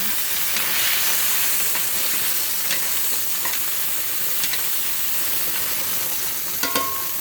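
Swordfish searing in olive oil in a hot pan, a steady dense sizzle and hiss throughout with a few faint clicks, no talking.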